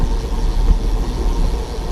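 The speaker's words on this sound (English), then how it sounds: "Delivery truck." A delivery truck's engine gives a steady low rumble close by on a city street, droning without pause for a couple of seconds.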